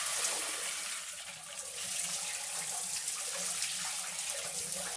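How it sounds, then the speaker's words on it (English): A tub fills with clean tap water as part of brining a homemade honey ham, a steady close rush of running water lasting throughout without pause. "we're going to fill this tub back up with clean water"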